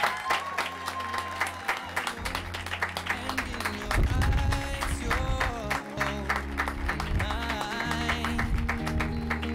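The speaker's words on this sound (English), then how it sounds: "And a big round of applause" Wedding guests at an outdoor ceremony applaud the newly declared husband and wife with scattered, moderate clapping that swells briefly, while music plays underneath.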